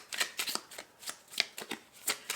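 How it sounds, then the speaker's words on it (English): A deck of cards is shuffled close up in a quick series of crisp riffling bursts, about a dozen rapid flutters with no talking. "Let's shuffle the last deck."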